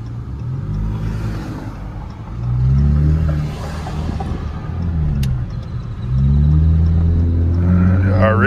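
A straight-piped V6 Dodge Charger GT with a 5-inch tip exhaust accelerating on a street, loud, close, deep exhaust rumble rising in pitch through repeated revving pulls, with people talking over parts of it.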